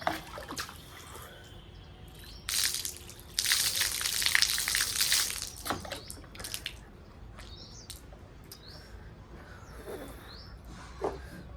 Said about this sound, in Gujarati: ફટાફટ મોં ધોઈ નાખું, ફ્રેશ થઈ જાઉં